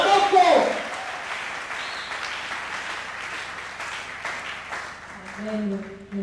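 Church congregation applauding and acclaiming during a sermon, a broad wash of clapping and cheering voices that stays steady throughout, with a preacher's voice and music rising toward the end.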